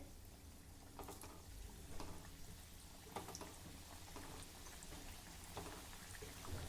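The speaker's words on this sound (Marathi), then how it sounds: "उरलेल्या करंजाही याच पद्धतीने मी तळून घेते" Semolina karanji pastries deep-frying in hot oil give a steady, faint, rain-like sizzle and crackle, with scattered brighter pops throughout.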